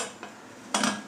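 A metal lid is set onto a pressure cooker pot while veg pulao boils, a soft clink followed by a brighter rattling clatter of metal on metal, close and brief.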